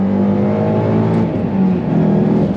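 A Ford Shelby GT500 Mustang (S197) launching from a dead stop, its engine note loud, close and continuous as the revs climb steadily with no talk.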